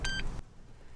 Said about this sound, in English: It beeped once